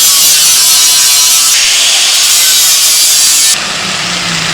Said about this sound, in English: I'm grinding that down until the bracket gets thin enough that it starts going out red hot